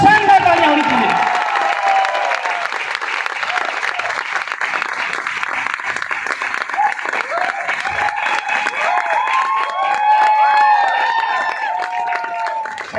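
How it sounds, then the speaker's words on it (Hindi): Loud, sustained applause from a crowd at an event honouring a guest, continuous dense clapping throughout with some voices and cheering mixed in. "एक जोरदार और शानदार तालियां होनी चाहिए।"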